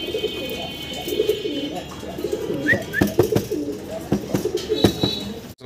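Pigeons kept for sale coo softly in repeated low, throaty phrases with a few sharper calls and wing rustles, fairly close, with faint voices in the background.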